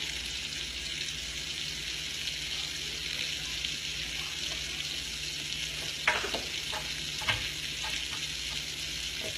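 Scallops searing in a hot pan give a steady, fairly faint frying hiss, with a few light clicks and taps from handling partway through.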